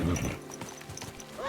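Horse hooves in the video game Kingdom Come Deliverance 2 clip-clop in a quick, uneven patter over a brief stretch, mixed with some game ambience and a faint voice-like tone.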